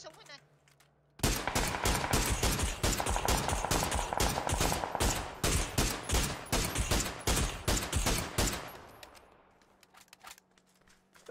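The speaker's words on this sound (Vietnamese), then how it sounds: "tôi sẽ bắn súng hết này." Bursts of gunfire from a gun being shot, heard as rapid, loud repeated shots in a dense volley that runs for several seconds and then stops abruptly.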